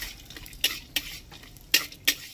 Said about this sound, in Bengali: আরো ঘিয়ে হালকা করে ভেজে নেব, খুব যে একদম লালচে হবে তা নয়, জাস্ট একটু নেড়ে চেড়ে নিতে হবে।